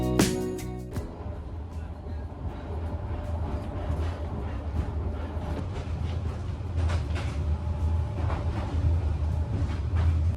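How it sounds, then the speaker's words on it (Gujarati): A passenger train leaves Hanoi railway station in Vietnam, rumbling steadily with rhythmic clanks and rattles. A bright tone sounds at the start, and the running noise stays loud and close throughout, heard from on board. "ઓન ટાઈમ ગાડી નીકળી ગઈ છે"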